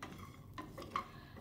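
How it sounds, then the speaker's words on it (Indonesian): Coriander seeds and other dry spices are stirred as they roast in a pan, a faint scraping of a utensil against the metal with a couple of light clinks, soft and close with no talk. "Aduk-aduk lagi sampai ketumbarnya juga harum."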